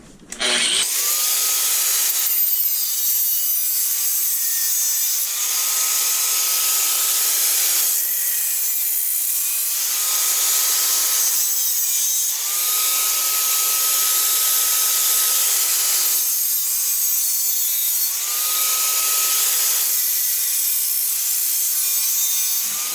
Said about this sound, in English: Alright, so this piece of aluminum is all cut.